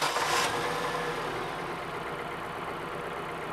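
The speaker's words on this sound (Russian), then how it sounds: "Запускаем двигатель и оставляем его работать на холостом ходу." A car engine idles steadily during an engine mechanics test, with a brief louder burst at the start settling into an even, continuous running drone with no voices.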